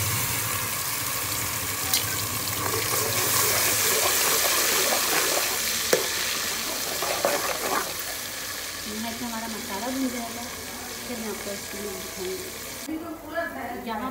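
Onions and masala frying in a pan for a vegetable sabzi, a steady sizzle with occasional stirring clatter running throughout, close and fairly loud, with a voice talking over it.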